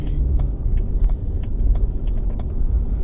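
BMW E90 pulling away from a stop on a wet, rainy road: steady low engine rumble with road and tyre noise, continuous and fairly close throughout, no talking.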